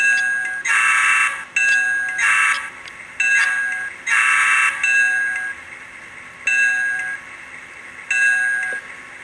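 Repeated blasts of a model train locomotive's electronic horn, a series of loud close toots of varying length, some long and some clipped short, with no talking.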